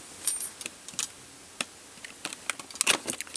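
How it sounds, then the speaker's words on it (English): A small X-Acto hobby knife blade slices through the seal on a box holding a cheap soldering kit, giving a few faint, close, scattered clicks and short scrapes with quiet gaps between, no voices. "Let's get our little X-Acto knife blade to cut the seal here."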